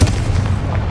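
A Confringo blasting spell goes off as a sustained, loud booming explosion with deep rumbling that fills the short moment without a break.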